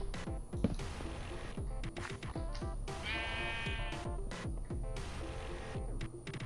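Sheep bleating in a modded Minecraft world, several short wavering bleats over steady game music and footstep-like thuds, clear and close, with no talk.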